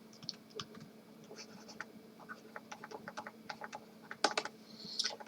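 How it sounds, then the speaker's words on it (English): Quiet, scratchy pen strokes and light taps while someone writes out an engineering mechanics calculation, faint and irregular with small pauses. "let me write it here"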